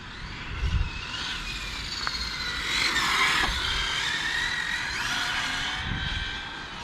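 A Hobao Hyper GTB RC buggy accelerates on throttle with a high, whining motor that rises and holds for several seconds, fairly close and loud, with no talking.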